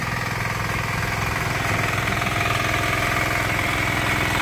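A farm machine engine running steadily in a rice field during planting, a loud, close, continuous mid-pitched drone with a rapid pulsing throb and no voices over it.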